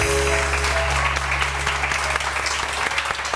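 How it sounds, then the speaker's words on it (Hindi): A studio audience on a morning television show claps loudly for a doctor, a thick, steady burst of applause over a low hum, with no one talking. "बहुत सारी तालियां डॉक्टर मेरा हिल साहब के लिए"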